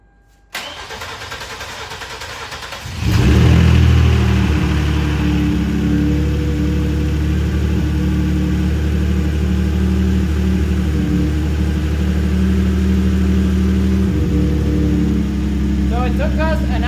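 A freshly installed 3.8L V6 in a Genesis Coupe cranks over and catches about three seconds in, then settles into a loud, steady idle with a few light revs. Voices speak briefly near the start.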